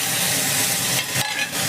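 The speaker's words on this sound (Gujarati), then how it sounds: "રાઈ, જીરું, મરચું અને લીમડો એ નાખી અને હવે વઘાર કરવાનો છે" Mustard seeds, cumin, chili and curry leaves crackle and sizzle loudly in hot oil for aloo dhokli, a dense, continuous hiss that dips briefly near the end.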